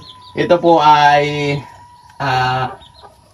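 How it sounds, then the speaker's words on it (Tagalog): Chickens cluck nearby in short bursts on a farm while someone speaks, with a steady faint hum in the background. "Ito pong mga manok natin dito ngayon"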